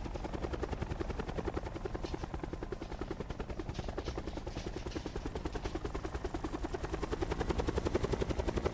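Helicopter in the Call of Duty Blackout video game, a steady loud rotor chop with engine whine that holds unbroken, close and constant, with no talk over it.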